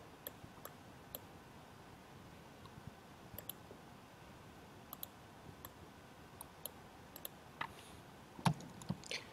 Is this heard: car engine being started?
no